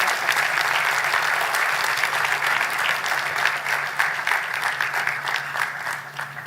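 Steady, dense applause from a large audience at an alumni meet, sustained throughout with a few individual claps popping out, slowly tapering near the end.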